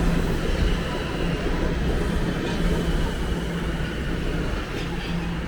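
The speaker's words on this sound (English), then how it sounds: "As a southbound train rolls out." A southbound subway train pulls out of Rosedale Station in Toronto, a loud, steady rail rumble and wheel roar that fills the whole stretch with no break.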